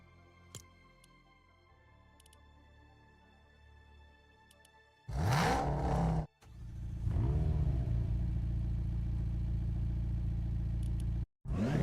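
A car in LEGO Fortnite Odyssey starts up with a loud engine roar that drops out briefly, then settles into a sustained rumbling drone before cutting off, following several seconds of quiet clicks and ambience.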